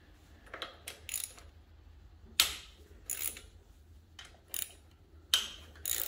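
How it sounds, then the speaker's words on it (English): Ratchet loosening 3/8 and 1/2 inch bolts on a riding lawnmower during a head gasket replacement, heard as short bursts of quick clicking, close and fairly quiet, separated by brief pauses, with no talking. "we'll be loosening these bolts here"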